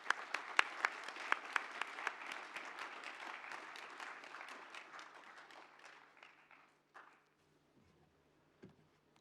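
Graduates at a university commencement ceremony receive a round of applause from the hall audience, crisp clapping that starts strong, gradually thins and fades out, leaving a few stray sounds and near silence at the end.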